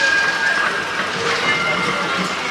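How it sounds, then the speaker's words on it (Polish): Trams moving along a busy Melbourne street, a steady broadband rumble of rail traffic with a brief high squeal, heard at moderate distance amid general street noise. "miałaś rację, ruszają jakieś tramwaje."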